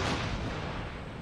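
Artillery fire in the strategy video game Empire: Total War, a single heavy booming report that fades into low rumbling battle noise, brief and fairly muffled.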